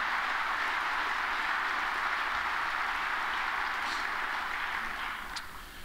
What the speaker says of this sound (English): I just want a round of applause to thank BT again for everything he's done.